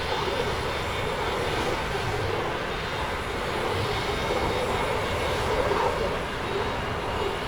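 A Eurofighter Typhoon jet in Microsoft Flight Simulator 2020 gives a steady, broad engine roar that holds level throughout, with a slight swell near the end as it passes close by.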